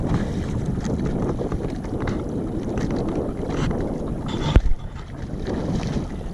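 A Gheenoe boat running on a river out toward open Gulf water, its motor a low steady rumble under heavy wind buffeting, with a brief knock partway through.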